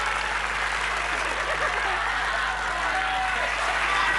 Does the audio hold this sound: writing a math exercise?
no